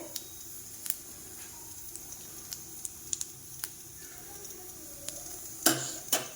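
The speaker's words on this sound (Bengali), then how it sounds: "কালো জিরে আর সামান্য রাঁধুনি ফোড়নে দিয়ে, এটা বেশ সুন্দর গন্ধ ছাড়বে।" Black cumin, white cumin and a little radhuni sizzle faintly in hot oil, a soft steady hiss broken by scattered small pops and crackles, with a couple of sharper spits near the end.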